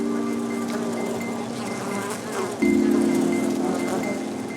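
Honeybees at a hive give off a close, continuous buzzing drone with shifting wingbeat tones, the pitch jumping midway as bees move near, with no voices.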